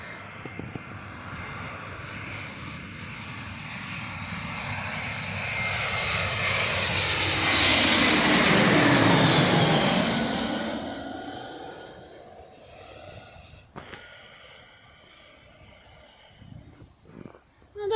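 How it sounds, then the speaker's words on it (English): A Wizz Air Airbus A320 airliner flies past, its jet engine roar swelling to a loud peak with a Doppler sweep, then fading into the distance. "That is a Wizz Air Airbus A320."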